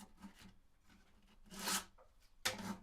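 120-grit sandpaper is rubbed along a guitar neck joint in a few short, scratchy strokes, the last two louder and closer than the earlier soft passes.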